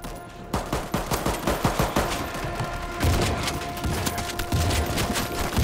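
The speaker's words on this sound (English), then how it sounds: "I started blasting." Rapid bursts of gunfire from the video game World War Z, a close, dense string of shots in the first two seconds followed by heavier sustained firing with booming low thuds, no talk.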